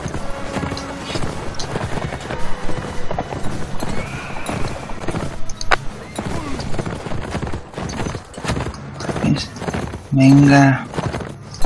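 Horse hooves clip-clopping with a whinny near the end in Mount and Blade Warband, mixed with game sounds and someone talking over it.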